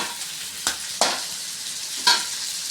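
Cauliflower (gobi) frying and being stirred in a pan for gobi noodles, with a steady sizzle broken by three sharp scrapes of the spoon against the pan, close up and alone.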